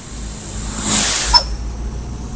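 A truck passes by on a narrow road, approaching with a rising whoosh and engine noise that swells to a loud peak before fading away, with no talking.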